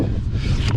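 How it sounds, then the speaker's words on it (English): Wind gusting outdoors at an open field, a steady loud rush buffeting the microphone throughout with no clear breaks. "Man, it's windy out here today."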